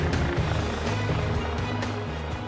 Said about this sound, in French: L'hélicoptère gendarmerie, appelé Chouka, se pose